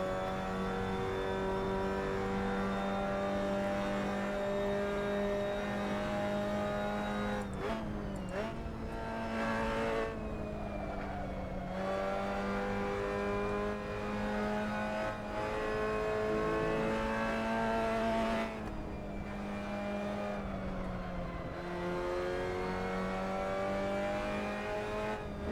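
A Mazda MX-5 Cup race car on track at Lime Rock Park drones loud and steady, its engine note rising under acceleration and breaking off abruptly at several gear shifts before climbing again.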